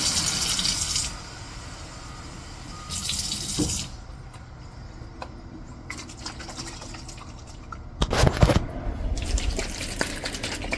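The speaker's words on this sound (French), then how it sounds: "Je vais mettre de l'eau là-dedans." Tap water runs into a slow cooker container in short bursts, a close rushing stream that stops and restarts, louder and fuller in the final seconds.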